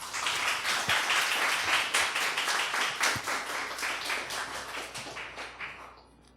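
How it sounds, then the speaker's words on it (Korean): A church congregation in Osaka gives sustained applause to welcome a missionary, dense steady clapping for several seconds that thins and fades out at the end. "여러분 나오실 때 박수로 환영해 주시기 바랍니다"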